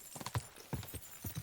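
Horse hooves clip-clop in the medieval game Kingdom Come: Deliverance, a quick uneven rhythm of soft thuds at close range, moderately quiet with no talk over it.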